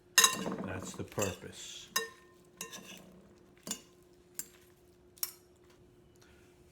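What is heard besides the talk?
tossing Caesar salad lettuce with oil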